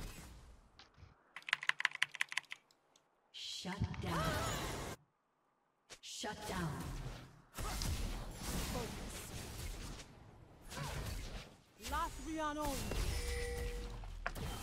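Fast typing on a computer keyboard during a League of Legends-style game session, with bursts of rapid clacking keystrokes interrupted by game effects and pauses; someone talks excitedly over parts of it.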